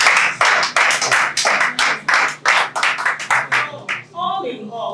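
An audience at a Hausa cultural celebration and competition claps in a rapid, uneven burst of hand claps that fades out, giving way to a voice at the end.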